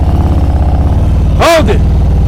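A motorcycle in advanced slow-speed riding practice idles with a steady low throb, then gives one brief, sharp rev that rises and falls within a second, loud and close.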